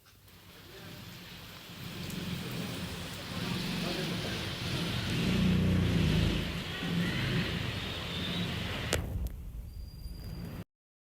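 Heavy rain falls steadily outside a home, a dense, constant wash of noise at moderate level that holds for about ten seconds and then cuts off abruptly.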